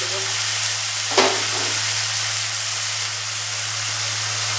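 Ground spice paste fries in a hot pan with a steady, close sizzle throughout, marked by one brief clatter early on.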